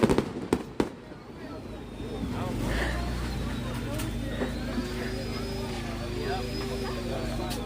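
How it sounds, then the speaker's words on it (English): A few sharp, loud firework bangs crack close by at the start during 4th of July celebrations, then give way to a continuous rumbling background with faint tonal whistles, while someone talks. "do fireworks sound the same as they do in different nations?"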